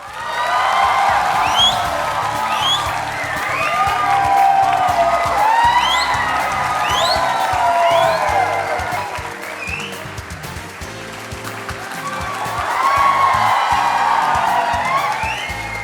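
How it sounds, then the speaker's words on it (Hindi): A studio audience at a televised Hindi courtroom-style talk show bursts into loud, sustained applause with cheers and whoops. It dips briefly midway, then swells again. "और ये तालियां बजते रहे"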